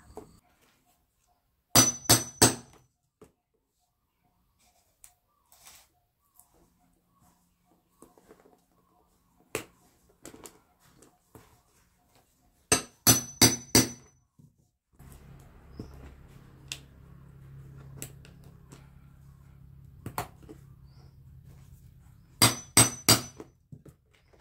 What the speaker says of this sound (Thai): แล้วก็ตอกให้แน่นเลยค่ะ